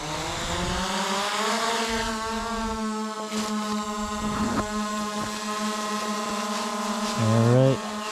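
A snowmobile engine drones steadily with rising and falling harmonics, while a Skydio 2 drone follows overhead; brief voices surface near the end.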